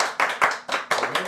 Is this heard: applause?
yes